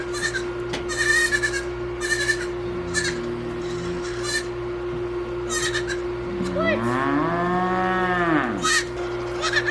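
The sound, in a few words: cow mooing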